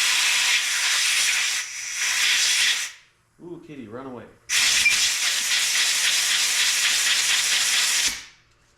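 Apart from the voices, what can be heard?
compressed air blowing rust out of tractor PTO clutch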